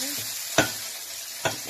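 Gyoza fry in oil in a hot pan, getting crisp on one side: a continuous close sizzle punctuated by two quick scraping stirs, with no voices.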